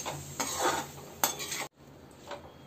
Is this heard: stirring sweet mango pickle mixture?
yes